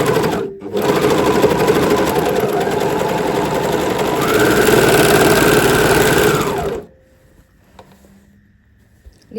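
An overlock sewing machine stitches fabric in a steady, loud motorised whir that lasts about seven seconds, its pitch rising briefly near the end before it stops abruptly, leaving near silence.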